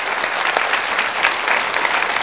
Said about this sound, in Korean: 박수로 우리 감사합시다